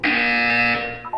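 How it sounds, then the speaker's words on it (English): A buzzer in the video game Portal 2 sounds as one loud, steady electronic tone lasting about a second, followed by a short blip. "You will hear a buzzer."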